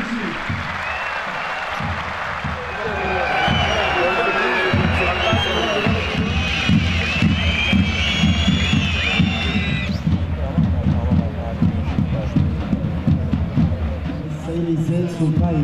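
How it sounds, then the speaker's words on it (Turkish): Crowd applause and cheering at a Turkish oil wrestling festival in Elmalı, a dense steady wash of clapping and voices with a loud announcer speaking over it throughout. "Baş pehlivanlarımıza, o güzel ellerinizle hep beraber alkışlarla diyelim maşallah."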